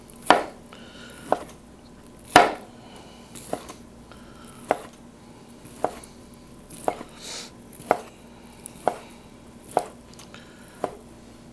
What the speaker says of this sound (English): we're going to finish slicing our loin like this